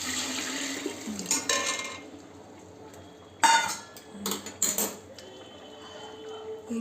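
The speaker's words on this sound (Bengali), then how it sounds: "গরম জল দেবো পোলাওতে, জলটা মাপ করে দিতে হবে।" Hot water poured into pulao rice in a cooking pot, with a steady watery rush, splashes and a few sharp clanks of the pot and utensils, heard close and alone.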